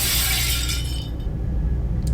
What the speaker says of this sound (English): a mirror shattering showing a letter stating that Jim isn't human